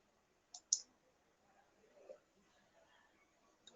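Two sharp computer mouse clicks in quick succession early on, then a faint third click near the end, over a quiet room with low background murmur.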